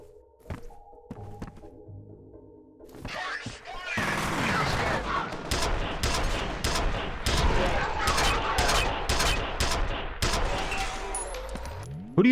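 A rapid volley of heavy mechanical shots from a giant stapler-style gun in the video game FEAR: after a quiet, clunky lead-in, about a dozen loud, evenly spaced punchy bursts, close and dominant.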